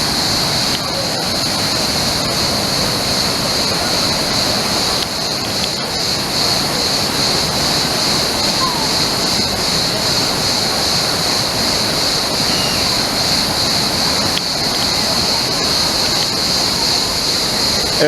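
Düden Waterfall in Antalya roars with rushing water, a loud, dense, steady broadband wash that never lets up, heard up close and outdoors with no pauses.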